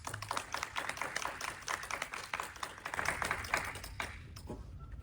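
Audience applause at a fan convention panel for director Peter Medak: dense, steady clapping from a crowd, close and continuous, tapering off near the end.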